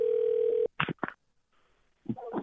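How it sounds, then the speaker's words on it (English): A steady telephone dial tone sounds alone for a moment when a phone line is picked up to call someone back, then cuts off and gives way to a few short bursts of talk. "Let me see if I can get him back on the phone."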